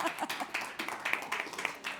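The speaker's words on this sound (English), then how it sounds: "Give him a round of" A conference audience claps at a games-industry event, Pocket Gamer Connects: a modest, uneven patter of hand claps from a smallish crowd in a hall, lasting a couple of seconds.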